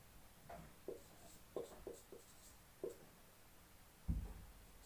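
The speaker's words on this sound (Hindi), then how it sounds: "एक क्वेश्चन मैं आपके लिए लिख देता हूं बढ़िया सा।" Someone writes out a maths question by hand, making a quiet close series of short scratchy strokes spaced irregularly, ending in a slightly louder tap.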